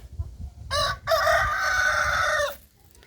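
A rooster-like call from a hen rings out twice, a short burst then a longer drawn-out one, fairly close over quiet background.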